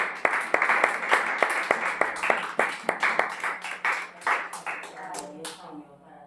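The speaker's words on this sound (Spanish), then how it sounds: "Vamos a dar un aplauso al Señor." Church congregation clapping in a lively, steady rhythm of sharp individual claps, fairly close and loud, thinning out toward the end as a voice begins speaking.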